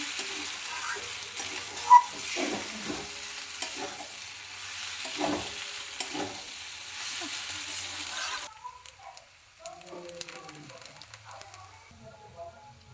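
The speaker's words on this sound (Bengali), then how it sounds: "ভালোভাবে কষিয়ে নেব।" Masala pasta sautéed in a pan, with a steady sizzle and scraping stir strokes that run for several seconds, then fade to a quieter, lighter sizzle.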